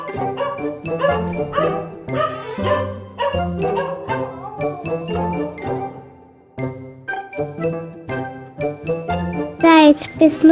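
Bright tinkling music plays throughout, and a dog barks near the end, loud and close over the melody.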